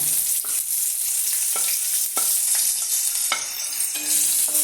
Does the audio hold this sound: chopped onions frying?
yes